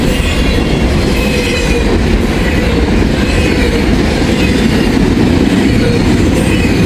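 A long freight train of mostly empty cars rolls steadily past close by, a continuous loud rumble with clickety-clack of wheels on rail joints and faint metallic squeal throughout.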